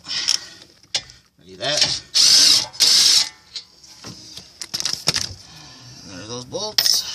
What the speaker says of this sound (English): So now I'm going to take them off with my impact.